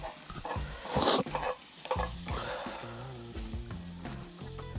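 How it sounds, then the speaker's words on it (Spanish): Tortillas heating in a frying pan over an outdoor wood fire, with steady close sizzling and scraping or stirring clatter, a few sharper knocks, and no speech. "ahí en el mismo sartén, ahorita calentamos unas tortilluquis"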